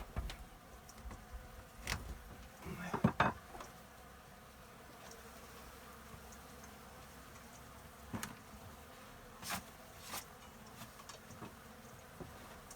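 Honey bees drone continuously around their comb-filled nest, a faint steady buzz with occasional louder passes of single bees flying close by.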